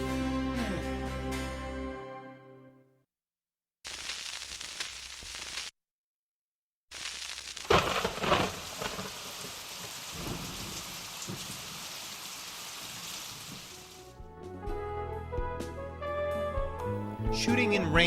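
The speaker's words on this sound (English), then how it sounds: "Shooting in rain, either artificial or real, can give you some fabulous effects if you know how to do it properly." Steady rain hisses continuously through the middle of the stretch, framed by music before and after and broken by brief silences, with no clear thunder rumble standing out.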